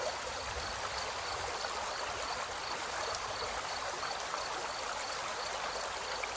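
A waterfall and flowing stream give a constant, soft rushing hiss that holds evenly throughout, faint and steady with no other sounds.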